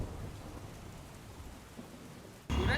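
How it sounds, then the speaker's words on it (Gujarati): Heavy monsoon rain falls over the city of Surat as a steady, fairly quiet wash of rain, with a sudden louder burst of noise at the very end. "સુરત શહેરમાં સવારથી જ વરસાદની એન્ટ્રી જોવા મળી રહી છે"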